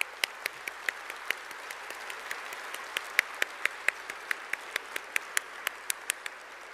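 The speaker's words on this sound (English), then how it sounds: "we'd like to give you an extra hand of applause" Audience at a university computer science fall diploma ceremony applauding graduates, a steady patter of many hands clapping with sharp rhythmic claps standing out near the front, no talk.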